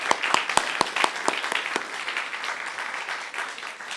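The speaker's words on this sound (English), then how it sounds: "Let's give a round of applause for all of our Food for Soul events." A small audience at a church gathering gives a round of applause, a handful of sharp individual claps standing out at first before blending into steady, moderately close clapping.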